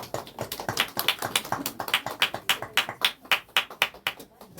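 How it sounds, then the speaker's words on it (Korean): A church congregation claps in loud, steady rhythmic unison, about a dozen sharp beats spread evenly through the passage with no voices over them. "자, 우리 크게 박수 하겠습니다."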